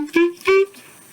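Clarinet improvisation pattern starting on C, upper part of the scale: two short, clear sustained notes played one after another, close and solo, followed by a faint trailing tone.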